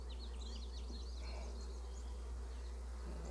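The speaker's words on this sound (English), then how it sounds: "There's a lot of bees." Honey bees swarm around an open backyard hive with lots of brood, a steady close buzzing drone with scattered higher wingbeat streaks over a constant low hum.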